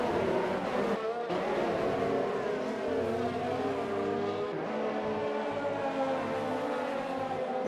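Race car engines whine steadily through an F1 2020 video game race, a dense sustained drone of several cars at high revs with shifting pitch, moderately loud, with faint commentary voices under it.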